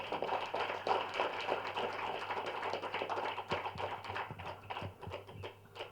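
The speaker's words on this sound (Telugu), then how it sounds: "ఒకసారి గట్టి క్లాప్స్ కొడదాం." Audience applause at an anniversary celebration event, a steady patter of many hands clapping at moderate distance that grows more uneven toward the end.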